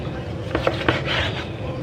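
A knife chops half-thawed chicken into medium pieces for a casserole, giving a few soft, dull thuds on a cutting board amid steady kitchen background noise.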